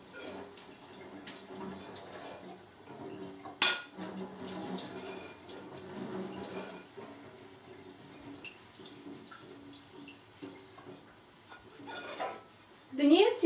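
Water runs from a tap into a sink in a steady, moderately quiet stream with splashes and a brief louder surge near the end, while a person talks over it.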